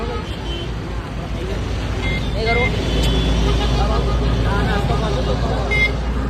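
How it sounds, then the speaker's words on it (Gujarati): Heavy street traffic in Ahmedabad, a dense, steady roar of cars, buses and trucks that swells louder midway, with passing engines and a murmur of people in the background. "અને અત્યારે બહુ જ ટ્રાફિક છે બધે."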